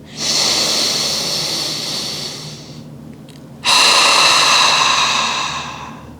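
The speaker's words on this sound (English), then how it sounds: "in through the nose, out through the mouth like we're fogging up glass" Slow, deliberate breaths during a pelvic pain exercise: air drawn in through the nose, then blown out through the mouth as if fogging glass. Two long, close, airy breaths, each lasting a few seconds, separated by a short quiet pause.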